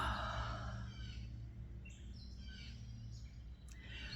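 Faint, distant birds chirp in scattered short calls over a steady low outdoor hum on a home deck, with no talking.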